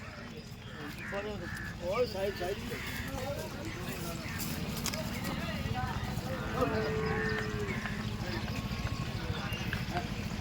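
Gir cows at a busy cattle market, with scattered moos and animal sounds amid a constant crowd murmur while someone talks throughout.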